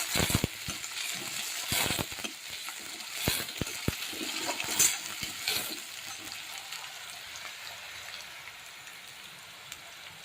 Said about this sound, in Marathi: कांद्याची पात चांगली परतवून घ्या